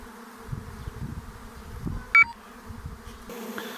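A swarm of bees around a tree, a low, uneven buzzing drone at moderate distance with occasional louder passes and a brief sharp knock partway through.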